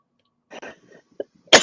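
A single harsh cough bursts out at the end, preceded by quiet throat sounds and a short clearing noise, close to the microphone.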